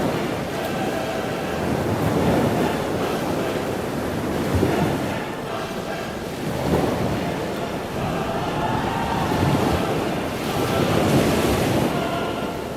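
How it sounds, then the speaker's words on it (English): Heavy ocean waves surge and crash in repeated swells while strong wind roars steadily across the microphone, with no voices. "The winds got stronger and stronger until they became hurricane-force winds, and the waves got bigger and bigger."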